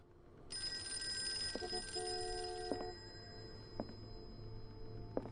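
An old telephone bell rings in the Call of Cthulhu video game, one sustained ring of a couple of seconds over quiet ambience, followed by faint tonal chimes and scattered soft knocks.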